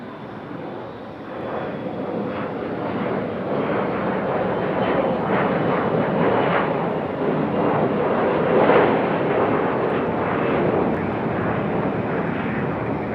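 Jet airliner roaring on takeoff roll from runway 23 right at Raleigh Durham airport, a loud sustained broadband engine roar swelling slightly, heard from nearby with no voices.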